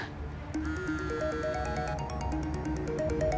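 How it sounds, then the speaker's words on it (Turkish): A melodic ringtone plays a repeating electronic tune with steady high beeps, moderately loud and uninterrupted by voices. "Aç şu telefonu Fırat, aç."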